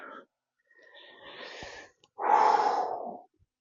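Heavy breathing follows yoga poses: a short breath, a longer drawn-out exhale, then a loud, breathy gasping exhale, close and quiet with no talking.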